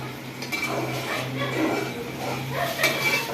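A spoon stirring pigeon curry with salt, chili and turmeric in a metal pot, steady scraping and light clinks running continuously at close range with a low background hum.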